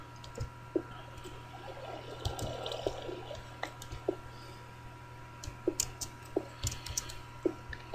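Water in the Minecraft video game trickles and drips steadily, with faint, irregular ticks and splashes over a low background hum.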